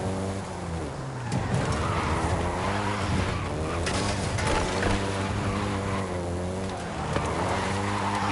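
A Volkswagen Golf GTI drives in Forza Horizon 5, its engine note holding a steady harmonic drone that dips and climbs through gear changes, loud and continuous with faint skidding tyre noise.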